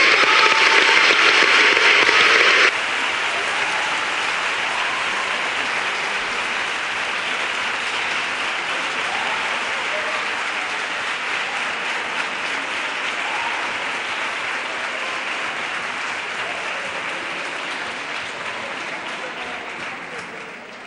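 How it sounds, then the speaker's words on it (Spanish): An audience at a ceremony electing the head lady of local festivities applauds steadily, a dense sustained clapping that swells briefly at the start, then continues evenly before tapering off. "Un fuerte aplauso para ella."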